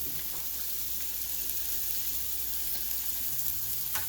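Double cheeseburger patties sizzle in a flat-bottomed cast iron skillet, a steady, close hiss with faint crackle running throughout and no talking.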